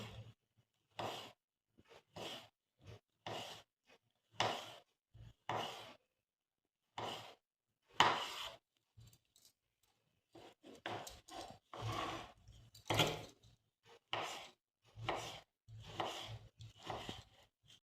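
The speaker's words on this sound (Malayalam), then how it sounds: "നമുക്ക് കട്ട് ചെയ്യാം നമുക്കിത് ചെറുതായിട്ട് അരിഞ്ഞു കൊടുക്കണം" Fruit such as apple, mango and plum being cut into small pieces gives repeated short rasping strokes close by, in an uneven rhythm with brief pauses between cuts, and no talking.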